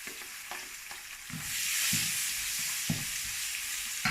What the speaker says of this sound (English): now we're ready to fry the rest of the stuff. We add in the shallots